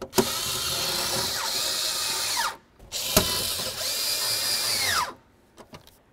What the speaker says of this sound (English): Now let's get our screws in.